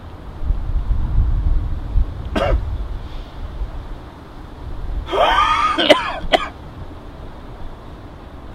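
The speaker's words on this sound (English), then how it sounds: "The coughing, it is at a faint distance, but second by second the coughing grows louder in volume" A man coughs and clears his throat in a few short harsh bursts, with one brief cough early and a louder cluster later, over a low windy rumble with no talk.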